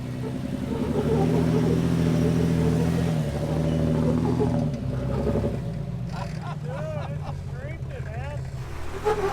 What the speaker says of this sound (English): Easy on the throttle, you got it now.